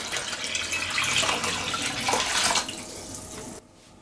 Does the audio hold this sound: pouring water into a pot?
yes